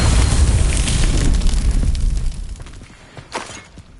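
A Confringo fire spell blasts in Hogwarts Legacy, a loud fiery explosion with a heavy rumbling burst that fades into a crackling tail, followed by a smaller sharp pop near the end.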